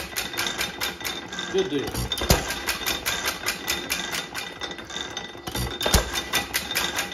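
An 8 cycle Aermotor hit and miss engine runs in a steady rhythm of repeated mechanical knocks, with occasional harder hits standing out. Someone speaks briefly over it.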